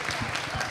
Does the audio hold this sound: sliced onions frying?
no